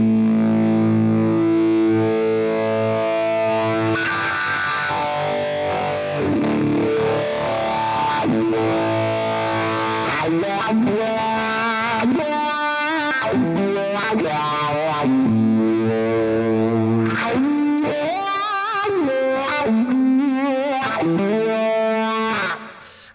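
A distorted electric guitar plays notes and phrases while a Jam Wahcko wah pedal sweeps the tone up and down with a strong vocal-like quack, loud and unaccompanied.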